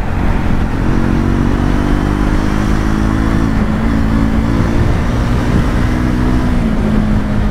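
Triumph Scrambler 400X motorcycle engine pulling hard through the gears toward top speed on an open road, loud continuous drone with rising and shifting pitch plus heavy wind rush.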